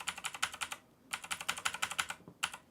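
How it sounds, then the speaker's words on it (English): Rapid typing on a computer keyboard, close and crisp, in three quick bursts of key clicks separated by brief pauses. "I'm sorry for my typing"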